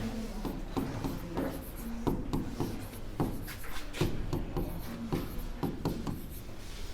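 Pen or pencil writing a math solution by hand on paper, a close, quiet run of scratchy strokes and taps in an uneven rhythm with no talking.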